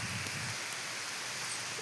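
Steady light rain falls with an even hiss throughout, close and continuous, with no talk over it.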